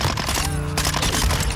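The Minibak submachine gun in Call of Duty: Modern Warfare fires a rapid, loud, continuous burst of automatic gunfire, the shots rattling in quick succession close up with no gaps.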